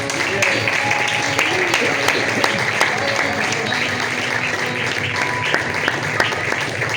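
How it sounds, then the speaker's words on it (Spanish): Sustained applause from a church congregation fills the space, dense and steady clapping with a few sharper claps standing out, no pause for several seconds. "Vamos a dar un aplauso para recibir la palabra."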